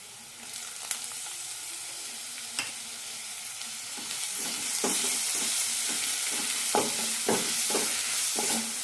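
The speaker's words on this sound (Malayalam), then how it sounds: "ഒരു മിനിറ്റ് നന്നായി വഴറ്റി കൊടുക്കാം" Crushed shallots are tossed into a pan of sautéing onion and the sizzle swells louder midway, with repeated spoon scrapes and knocks against the pan as they are stirred, nearby and without talk.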